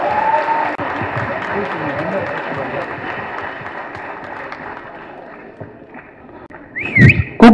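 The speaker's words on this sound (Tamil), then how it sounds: "உங்களோட கைத்தட்டல்கள் பிளீஸ் பிளீஸ்." Dense, steady audience applause fills a short film awards ceremony in Chennai, fading slightly before a louder burst near the end, with a voice briefly speaking over it.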